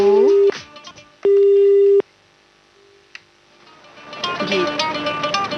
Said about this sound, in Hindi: ये तो फोन ही कट चुका है जी।